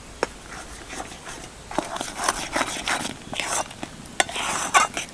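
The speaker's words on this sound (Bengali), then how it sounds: "এবার এটা যতক্ষণ না কড়া থেকে ছেড়ে যাবে ততক্ষণ কিন্তু আমি নাড়তে থাকবো" A sweet carrot dough with semolina and milk powder is stirred in a kadai, giving quiet, irregular scraping and soft clinks of the spoon against the pan.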